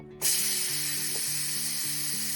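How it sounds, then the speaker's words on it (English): An air fryer running loudly, a strong steady whirring hiss with a low mechanical hum beneath, close and constant after a sudden start. "my air fryer is being loud now"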